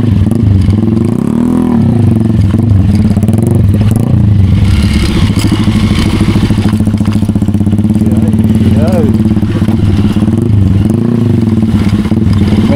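A motorcycle engine drones loudly and continuously, rattling and clattering as it bumps over a rough, uneven mountain road, with the revs rising and falling.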